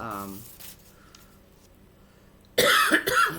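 A short, loud cough bursts out near the end after a quiet stretch, preceded by a brief bit of voice.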